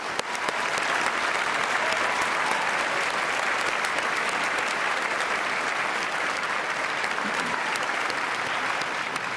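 Dense, steady applause from a large audience at a Sterling Scholar awards ceremony, sustained and even for about nine seconds with no speech over it.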